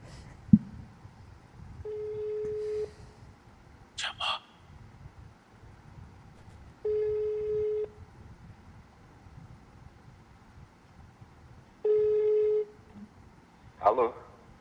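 A telephone ringback tone sounds in repeated one-second pulses spaced a few seconds apart, with brief bursts of other noise between them, as a caller waits on the line during a Brazilian broadcast program.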